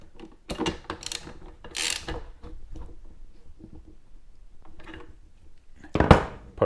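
Mechanical clicking and ratcheting bursts as a part is tightened down on a Poulan WT 200 Wild Thing leaf blower, with a few sharp close clatters and a louder grinding burst near the end.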